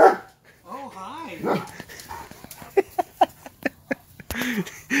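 A dog barks and yips in a rapid run of sharp, close barks, with whimpery pitched vocal sounds before; a person talks to it in between.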